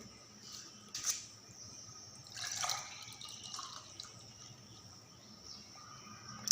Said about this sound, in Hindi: अब हम इसको गिलास में डालेंगे।